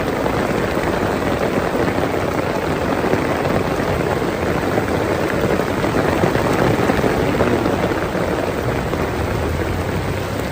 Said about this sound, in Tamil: நேபாளில் மழை வந்துருச்சு.